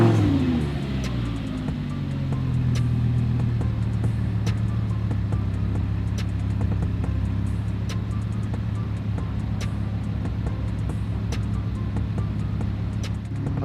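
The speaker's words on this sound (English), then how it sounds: "I'm gonna let you guys hear that naturally aspirated V10." The naturally aspirated V10 of a 2010 Audi R8 R Tronic idles and settles after a brief rev, giving a loud, steady, deep burble close by with faint ticking over it and no talk.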